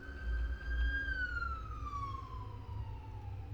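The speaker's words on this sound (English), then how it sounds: "there goes an ambulance" A wailing ambulance siren in the horror video game Amnesia, one long steady tone that glides downward as it passes, fairly loud over a low rumbling background.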